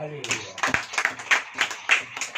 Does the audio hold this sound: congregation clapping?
yes